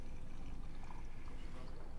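Water pours steadily into a tea bowl of powdered Saemidori matcha ahead of whisking, a soft continuous trickle heard close and quiet.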